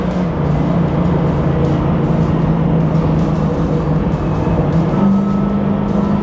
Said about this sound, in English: And I'm just driving it at half throttle.